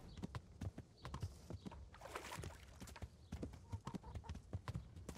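Horse hooves clip-clop in a steady galloping rhythm as a rider gallops away in Kingdom Come: Deliverance, close and continuous with a brief rushing swell partway through.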